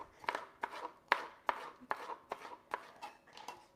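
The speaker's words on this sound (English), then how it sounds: "I'm going to cut that in half" A knife cuts a green pepper into strips on a board: about nine quiet, evenly spaced chops with short gaps between them, close by and heard alone.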